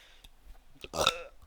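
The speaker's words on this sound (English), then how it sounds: "I don't mean to always burp in your ears." A single loud, wet belch from a man chatting during a late-night game session, rising abruptly after quiet room noise and trailing off over about half a second.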